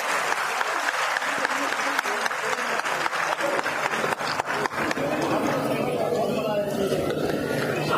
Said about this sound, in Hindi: जोरदार तालियां बनी